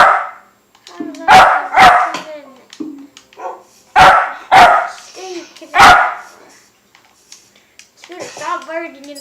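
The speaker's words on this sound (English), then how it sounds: "Stop barking in the video." A dog in a Minecraft Xbox game barks in several sharp, loud barks, some in quick pairs, spread across the stretch, with a voice talking in between and near the end.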